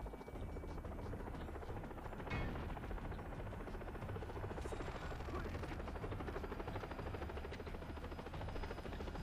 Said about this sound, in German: Scheiß Helikopter, ey.